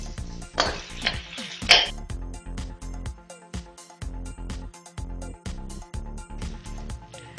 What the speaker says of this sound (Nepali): आरामले फ्राई गर्ने।